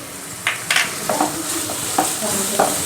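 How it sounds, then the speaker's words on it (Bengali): Salted onions frying in a pan while being stirred: a constant sizzle broken by several sharp scrapes and knocks of the spatula at an uneven pace. "পেঁয়াজটাকে আমি এখন ভাজা ভাজা করব একটু"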